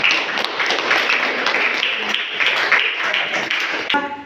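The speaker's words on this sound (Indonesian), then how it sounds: "kita beri aplaus buat kelompok 3" A classroom group of students claps for group 3, a dense burst of hand claps lasting several seconds before fading, with some voices mixed in.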